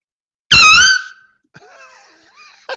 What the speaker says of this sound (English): it's like this air horn has asthma